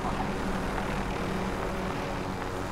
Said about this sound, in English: Oh, there's another helicopter.